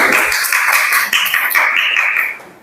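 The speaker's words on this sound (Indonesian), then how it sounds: "Oke, tepuk tangan buat mereka." A group claps for students in a classroom during a lesson, a brief round of close, bright hand claps that carries steadily and fades out at the end.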